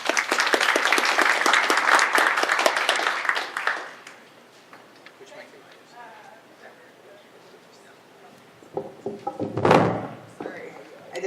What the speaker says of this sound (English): So we have a round of applause for Jessica.